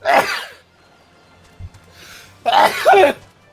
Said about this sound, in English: sneezing tends to be unpleasant